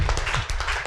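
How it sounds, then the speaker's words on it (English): Audience applause at a panel discussion on circular hubs, a dense steady wash of many hands clapping at close range throughout, with no talking over it. "Can we give a round of applause?"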